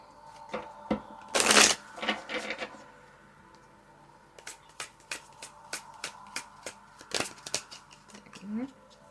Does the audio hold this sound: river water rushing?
no